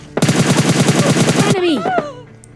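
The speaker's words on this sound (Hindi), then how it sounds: "पहाड़ी की तरफ से ना थोड़ी सी गन शॉट की आवाज़ आती है" Rapid burst of automatic gunfire from a hillside in PUBG Mobile Lite, about a dozen shots in quick succession, followed by a short trailing ricochet-like whine as it fades.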